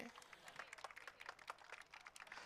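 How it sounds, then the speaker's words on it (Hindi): Faint, distant applause from an audience at a prize distribution ceremony for the Reformation Cup 2023, a steady patter of many hands clapping for a couple of seconds. "जोरदार तालियां हमारे स्पॉन्सर्स और पार्टनर्स के लिए"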